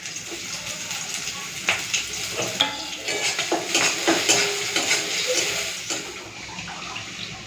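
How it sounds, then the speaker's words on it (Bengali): Steady, close sizzling of chopped onion and green chili frying in hot oil, with scraping and stirring clatters throughout and no talking. "তেল গরম হয়ে গেছে পেঁয়াজ আর কাঁচা লঙ্কাটা দিয়ে দিচ্ছি"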